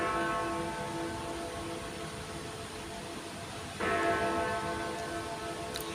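A church bell tolls faintly at a distance, its ringing tones sustained over a low rumbling background, with a fresh strike about two-thirds of the way through.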